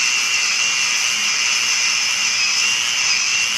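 An angle grinder fitted with a flexible Velcro backing pad polishes granite around an undermount sink, giving a steady, loud, high-pitched whir with an even grinding hiss throughout and no pauses or talk.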